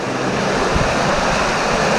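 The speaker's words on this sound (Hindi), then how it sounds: "जो सांड पानी जो यहाँ बह रहा है वो जा रहा है अंदर" Sewage water pouring into the Godavari river in Maharashtra, a steady loud rushing wash of flowing water that fills the whole stretch without a break.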